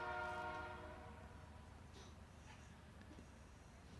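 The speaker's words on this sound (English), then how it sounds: "A lot of trains tonight." A passing train sounds its horn at a night high school soccer match, the horn fading over the first second while rumbling rail noise continues at a distance.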